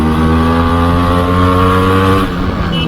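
A Yamaha RX 135 motorcycle, a 30-year-old bike ridden at night, drones loudly with a steady high-revving two-stroke engine note up close, its pitch shifting slightly near the end, with no talking.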